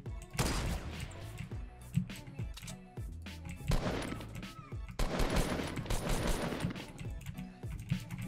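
Rapid gunfire in a shooter video game, shotgun blasts mixed with other weapon shots, coming in dense overlapping bursts separated by brief pauses.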